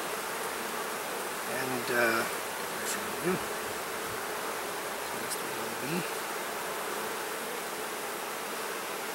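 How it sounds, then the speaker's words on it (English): Honey bees hum around an open, queenless split hive, a dense steady buzz close by that persists throughout, with a few individual bees swelling louder as they fly near and someone briefly speaking. "that bee wants a fight"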